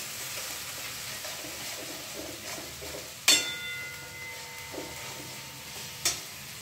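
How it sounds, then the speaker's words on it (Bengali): Spice paste for a prawn and soya kofta curry fries in oil in a kadai with a soft, steady sizzle and quiet stirring scrapes, broken by two sharp metallic clanks of the spoon against the pan. "মশলাটা মোটামুটি কষানো হয়ে গেছে"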